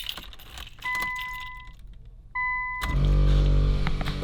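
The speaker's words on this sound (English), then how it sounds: "Let's put the key in now." Car keys jangle and clink as a key goes into the ignition of a Nissan Skyline R34, with steady electronic chimes sounding, followed by a loud rumble and hum as the car powers up.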